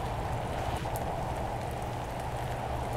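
Steady, dense hiss of acid rain pouring down in a video game, constant and fairly even with no pauses or voices.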